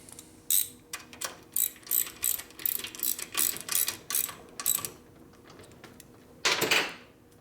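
A torque wrench ratchets on the head bolts of a 1957 Harley-Davidson panhead, giving a run of close, crisp clicking strokes in quick bursts, then a pause and one longer final ratchet pass.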